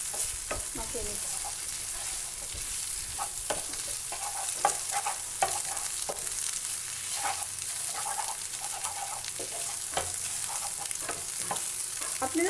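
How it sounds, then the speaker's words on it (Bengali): Egg bhujia being stirred together with fried pointed gourd in a pan, a steady close scraping of the spatula against the pan with a light sizzle under the strokes and no talking. "এটাকে আমি এইভাবে এটা ভুজিয়া বানিয়ে নেব, এবং এই ভাজাগুলির সাথে এটাকে ভালোভাবে মাখিয়ে নিচ্ছি"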